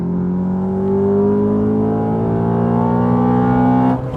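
A BMW 335i engine revs hard from a race start and climbs steadily in pitch as it accelerates, loud and close, then cuts off abruptly near the end.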